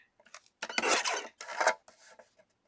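Paper being trimmed off a 12 by 12 sheet for a Christmas artist trading card, a few close rasping cuts with short pauses, alone and fairly faint.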